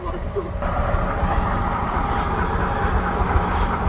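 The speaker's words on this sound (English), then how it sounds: "It's got the Leyland 680 engine in it, it's 11 litre, non-turbocharged. Just a big deep engine" A Leyland bus with an 11-litre non-turbocharged Leyland 680 engine running at a garage, a deep, steady diesel rumble heard close up, with a brief hiss near the start.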